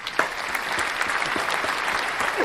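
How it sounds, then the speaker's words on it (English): Canned applause from an applause button on a talk show: a continuous crowd of clapping hands, even and moderately loud throughout. "Applause button"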